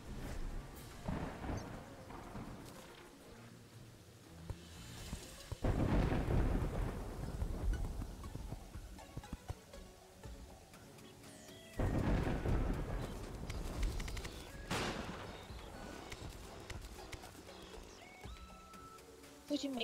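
Rain and rolling thunder in Terraria, several loud thunder rumbles swelling over a steady rain wash, with faint voices chatting in the background.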